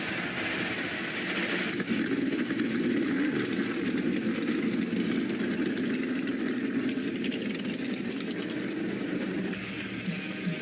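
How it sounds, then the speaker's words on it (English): Stock car engines start up and rumble at Daytona in the NASCAR 25 racing game, forming a continuous dense mechanical drone that holds steady throughout with no voices. "Start your engines!"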